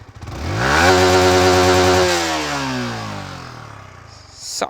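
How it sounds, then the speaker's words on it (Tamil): Yamaha R15S motorcycle engine revved hard to high RPM nearby, climbing quickly to a loud sustained roar, then dropping back and fading as the throttle closes. "உங்களுக்கு நான் ஆர்பிஎம் ஹிட் ஆகும்போது எப்படி இருக்குன்னு காமிக்கிறேன்."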